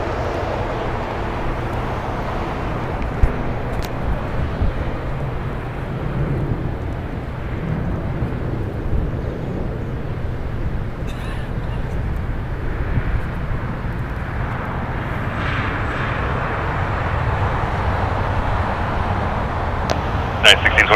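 A 21-year-old Delta Air Lines Boeing 737-8 in SkyTeam livery departs LAX on the north runway, a steady broad jet roar building slightly toward the end, with air traffic control radio voices talking over it throughout.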